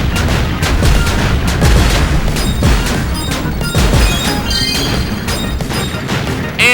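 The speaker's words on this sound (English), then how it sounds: "And here we have the end of explosions." Repeated explosions from the video game Kirby's Epic Yarn, a dense run of booming, crashing blasts that follow one another closely at a steady loud level for several seconds, with no talking.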